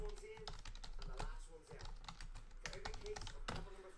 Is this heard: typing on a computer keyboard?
yes